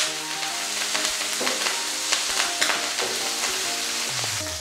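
Mustard seeds, split lentils and chopped green chillies fry in hot oil in a Telugu home kitchen, giving a steady close sizzle with scattered pops and crackles and a few stirring scrapes, no talking.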